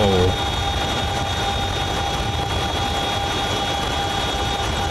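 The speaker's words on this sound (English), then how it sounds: "You're walking by and then you see like a helicopter with these huge..." A helicopter passing overhead, a steady, fairly distant drone of rotor and engine noise holding evenly throughout with no voices.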